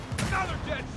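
Automatic MK rifle gunfire in Gears of War 4, a dense burst of shots running through the whole second with a low rumbling body.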